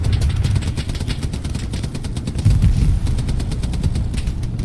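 Machine gun fire in the World War II video game Hell Let Loose, a steady rattling stream of shots at middle distance over a low rumbling engine drone.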